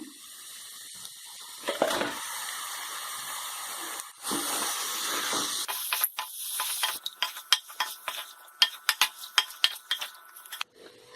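Chicken pieces go into a hot pan for a Tamil chicken fry, setting off a broad hissing sizzle, followed by a run of sharp clinks and scrapes of a utensil against the pan.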